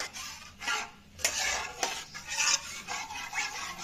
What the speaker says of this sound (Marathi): चांगल्या प्रकारे मिक्स करून घेणार आहोत।